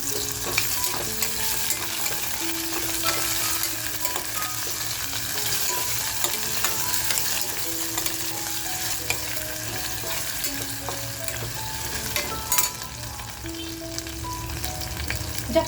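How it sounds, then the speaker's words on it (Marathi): Potatoes fry in a pan for fish pav bhaji, a steady close sizzle with frequent clinks and scrapes of a spoon stirring them throughout. "बघा बटाटा सुद्धा आपला हलकासा फ्राय झालेला आहे"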